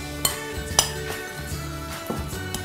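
Mango salsa with garlic being mixed in a bowl: a couple of sharp clinks of a utensil against the bowl stand out over soft, steady stirring scrapes, close and moderately quiet.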